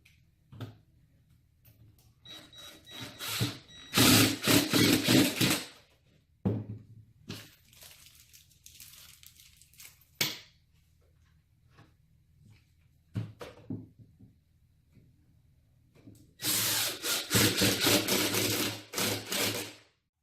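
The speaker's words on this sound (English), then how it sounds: "I will be securing our playing field using my impact driver fitted with the Phillips head tip." Impact driver with a Phillips tip driving screws into a wood panel during furniture assembly, several loud rattling bursts of a few seconds each, separated by quieter handling clicks and pauses.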